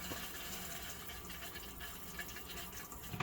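Water runs into an RV toilet bowl after its side foot pedal is pressed, a faint, steady rushing and trickling throughout, heard alone at a low level.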